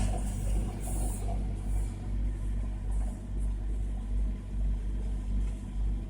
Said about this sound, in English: We got a truck driving by.